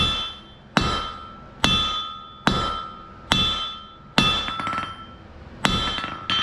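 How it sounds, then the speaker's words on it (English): A hammer strikes hot steel stock on an anvil during forging. Seven sharp, ringing blows land at a slow, steady pace, each leaving a bright metallic ring that fades, close and loud. "We tip it down slightly, hit half on, half off, keeping slight pressure towards the anvil."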